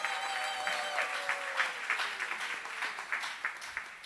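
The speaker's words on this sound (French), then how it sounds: "Let us clap for Jesus." An audience at an evangelical church gathering claps for Jesus, a steady wash of applause that holds through the whole stretch over music with sustained tones.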